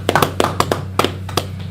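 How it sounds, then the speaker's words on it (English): A congregation claps at the close of a Sabbath service: about a dozen sharp, irregular hand claps over a low steady hum, close and moderately loud. "Let's clap it up for him."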